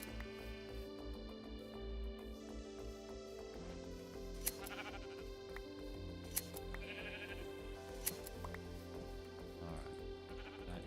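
Sheep bleating in Minecraft, several faint bleats scattered over about eleven seconds against steady game music, with a few sharp clicks between them.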